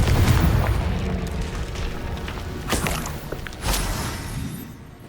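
Hogwarts Legacy Confringo spell explosions: heavy booming blasts with rumbling low-end, a loud burst at the start and further thumps, alone without talk.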